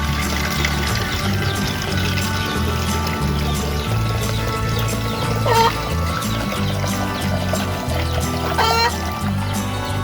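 Water poured into a molasses mixture being prepared for chickens on a farm, a steady liquid pour and trickle heard under loud background music.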